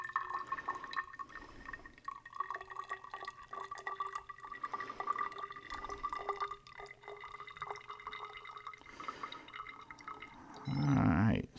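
Water poured from a graduated cylinder into a smaller container during a middle school water conservation workshop: quiet, intermittent trickling and dripping with faint glassy tones, ending in a brief louder splash.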